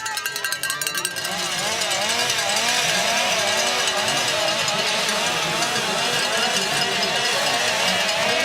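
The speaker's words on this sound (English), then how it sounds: "the noise of the chainsaws in the background" Chainsaws run nonstop beside a snowy cyclo-cross race course, a loud buzzing whine that rises and falls in repeated revving cycles, mixed with rattling cowbells from the crowd.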